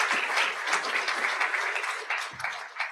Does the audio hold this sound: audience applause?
yes